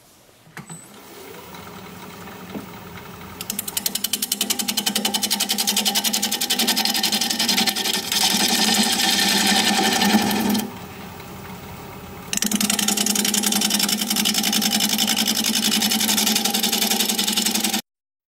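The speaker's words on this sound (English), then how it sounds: "I'm going to be turning at 560 RPM with a 5/8 inch bowl gouge" A wood lathe spins at 560 RPM while a 5/8 inch bowl gouge cuts a broken wooden bowl, giving a steady loud whirring drone with a brief drop in the middle before the cut resumes, and no talking.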